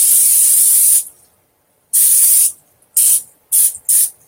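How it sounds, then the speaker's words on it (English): Cooking spray hisses into a small 3-quart crock pot in several sharp bursts, one long spray followed by shorter quick ones, close and loud with nothing else around. "want to go ahead and spray down your crock pot"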